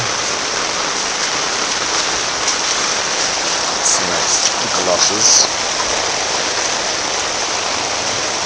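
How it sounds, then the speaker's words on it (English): Heavy non-stop rain pours down during a flood, a loud dense steady hiss close by, with a person briefly speaking partway through. "Just raining non-stop. Non-stop rain."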